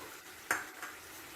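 Sauce being stirred into chilli garlic fish in a pan, heard as a single sharp scrape with a metallic clink, followed by a softer second touch over a faint background hiss.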